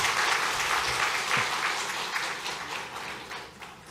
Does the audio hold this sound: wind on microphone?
no